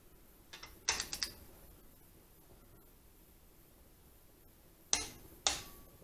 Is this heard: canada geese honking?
no